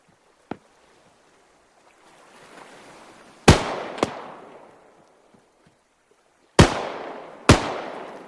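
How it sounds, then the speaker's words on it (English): Gunshots ring out in the video game ARMA 3, a single crack followed by two pairs of loud, sharp reports with echoing tails over a faint hiss. "He was shooting at that guy way up over there."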